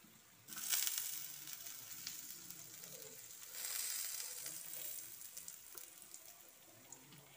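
Coconut oil heating in a frying pan gives a steady hissing sizzle that swells twice, near and moderately loud, with no talking.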